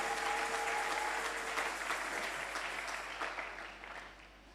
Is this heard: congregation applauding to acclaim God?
yes